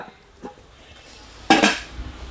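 Non-stick cookware pans, including a mini saucepan, clink against each other once in a short, sharp clatter after a faint earlier tap, with quiet handling noise around it.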